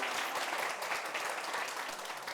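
A studio lecture audience on Korean TV claps together in a steady, even round of applause, soft and somewhat distant, with no other sounds.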